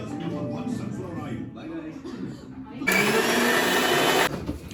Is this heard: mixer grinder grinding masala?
yes